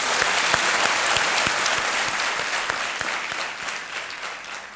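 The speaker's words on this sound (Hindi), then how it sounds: "एक बार फिर ताली बजा देते हैं आपके लिए।" Studio audience applause on the set of Kaun Banega Crorepati, a steady, loud burst of dense clapping that fills the whole stretch and eases off only slightly toward the end, with no voices over it.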